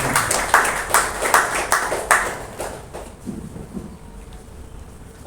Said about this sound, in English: let's all put together a big round of applause for Bala's achievement.